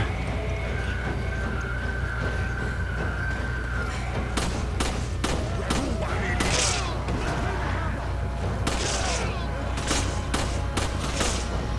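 Gunfire from the Resident Evil 5 video game, bursts of loud shots over a dense, constant rumbling game soundscape, with a player talking intermittently over it.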